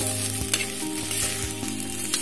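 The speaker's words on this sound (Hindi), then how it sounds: "हम यहाँ पे चावल को जरा सा ये घी में फ्राई कर देंगे" Rice grains frying in ghee, a loud, steady, close sizzle with repeated stirring scrapes through it and no voices.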